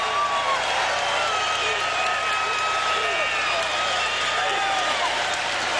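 A boxing crowd at the Apollo roars and applauds between rounds. The loud, continuous cheering fills the hall as a dense wall of noise, with faint shouts and whistles rising out of it.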